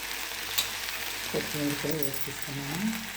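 Cauliflower and prawn curry is stirred in a pan, a soft steady sizzle with light scraping heard under a person talking.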